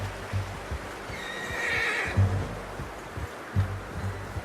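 A horse whinnies with a long, rising call while hooves thud intermittently nearby in the video game Red Dead Redemption 2; no voices.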